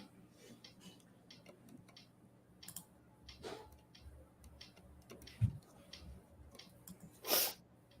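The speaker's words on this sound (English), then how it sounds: "Something made me sneeze." A single sharp sneeze bursts out near the end after scattered soft clicks and faint taps in a quiet room.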